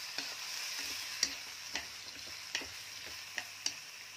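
Snake meat for a curry sizzles in a pot over high heat, a steady frying hiss broken by regular sharp ticks and scrapes as it is stirred.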